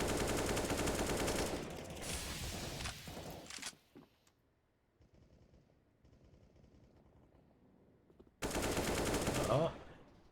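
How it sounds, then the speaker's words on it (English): AK-47 rifles trade fire through smoke in a competitive video game match, with dense bursts of rapid automatic shots, a quieter gap of scattered distant shots, then another loud burst. "Teams exchanging some AK-47 fire here at mid through that smoke."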